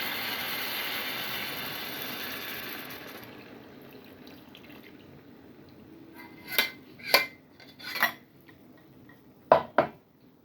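Chicken korma with coconut milk stirred in a pot, starting with a fading hiss and then four or five distinct scraping, clattering strokes of a utensil against the pot, close and with no talking.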